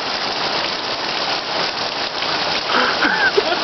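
Steady rain falls outdoors during a shower in the rain, a dense, even hiss of drops hitting surfaces that holds at a constant level throughout, with no voices heard.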